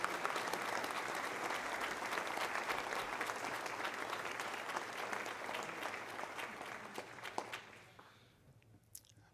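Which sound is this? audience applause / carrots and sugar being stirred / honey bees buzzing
audience applause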